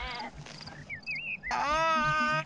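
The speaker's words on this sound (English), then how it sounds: "That sheep isn't ill. It's giving birth." A sheep giving birth in the video game Black & White 2 lets out loud, close, quavering bleats, one short cry and then a long wavering one, with a brief whistly game sound between them.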